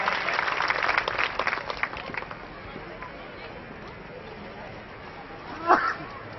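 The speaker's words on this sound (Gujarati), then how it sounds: "જોરદાર તાળીઓથી વધાવીએ" Audience clapping at a Rajput community centenary ceremony as a guest is welcomed with a bouquet, a dense burst of applause at first that thins to scattered claps, with a brief louder sound near the end.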